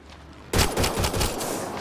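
Video game gunfire erupts suddenly after a half-second of quiet: a loud, close burst of rapid shots that keeps rattling in quick pulses to the end.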